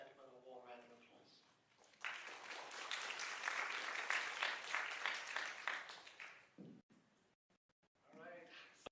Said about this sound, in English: please give both gentlemen a warm round of applause